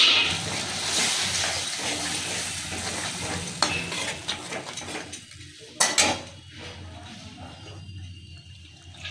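A spice mix frying in oil in a pan for a vegetarian eggplant dish sizzles steadily, with a small amount of water splashed in causing two sharp hissing bursts amid stirring and light scraping, close and alone.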